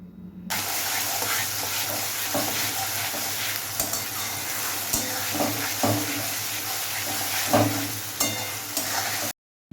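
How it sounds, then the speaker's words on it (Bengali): Onion and garlic paste sizzles and fries in a hot pan while it is stirred, with scraping spoon strokes over a continuous loud hiss. "বেটে রাখা পেঁয়াজ আর রসুনের পেস্ট। এই পেস্টটাকে ভালোভাবে কষিয়ে নিতে হবে।"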